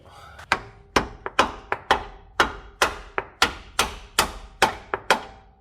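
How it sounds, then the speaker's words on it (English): Repeated sharp metallic hammer blows knocking out the driver-side CV axle of an Acura RSX Type S, about a dozen in a steady, slightly uneven rhythm, loud and close with brief ringing after each strike. "So we're gonna go ahead and hammer that."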